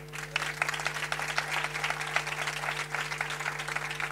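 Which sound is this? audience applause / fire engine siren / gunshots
audience applause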